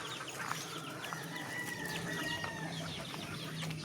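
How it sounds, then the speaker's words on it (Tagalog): Chickens cluck and murmur softly around a poultry farm yard, a faint, continuous chatter of several birds with occasional sharper calls, no talk over it. "nagkalat na yung ating mga manok"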